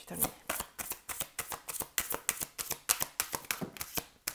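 A deck of tarot cards is shuffled for a reading in quick, regular bursts, each a crisp papery riffle close to the microphone, repeating steadily about every quarter second as a quiet voice comes in briefly.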